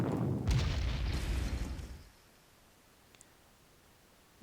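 Artillery fire in the wartime strategy video game Panzer Corps: a loud booming burst with a rumbling tail that fades after about two seconds, leaving near silence broken by a couple of faint clicks.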